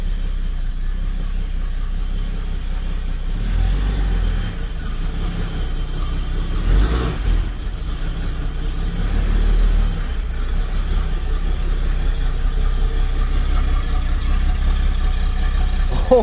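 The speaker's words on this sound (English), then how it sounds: "The engine runs very smooth and perfect." A BMW 745i E23 engine runs smoothly at a steady idle, a continuous low rumble heard up close, with a slight swell partway through and no talking.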